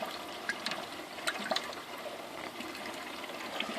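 Water rushing steadily through a new hose while plumbing a BRS reactor, a continuous soft gushing and trickling with small splashy spikes, fairly quiet and without voices.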